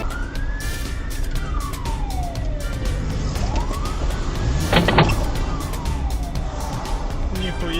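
An ambulance siren wails through traffic, its slow rising and falling sweeps sounding steady and fairly close over a continuous road rumble, with a brief burst of louder noise midway.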